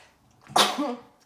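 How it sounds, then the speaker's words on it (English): A single sharp sneeze close to the mic, with a quick breathy intake and a burst that fades out, then quiet. "Excuse me, I have to sneeze."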